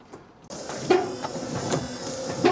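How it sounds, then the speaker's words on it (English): A car windscreen wiper motor on a Morris Minor, converted to a K11 motor, whirs steadily with rhythmic scraping sweeps and clunks repeating under it, close by, as a wiper drags across the bonnet. "one of the wipers is scraping a little bit on the bonnet"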